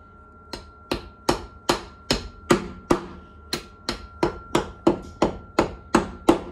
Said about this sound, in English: it's designed to actually be used for hammering in raw plugs into walls